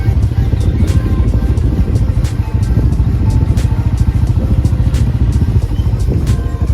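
A motorcycle engine drones steadily while riding on a road, loud and close with a constant low rumble and occasional rattles, no voices.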